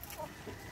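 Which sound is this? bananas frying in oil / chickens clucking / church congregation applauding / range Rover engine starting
chickens clucking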